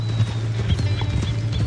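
Horse in the Red Dead Redemption II video game, hooves clip-clopping in a steady, rapid gallop rhythm with a brief neigh, loud and close, no talking.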